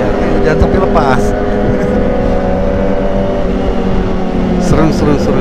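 Kawasaki ZX25R motorcycles with a new aftermarket exhaust riding fast in a group, a continuous high-revving engine drone with wind roar up close, with a rider talking over it.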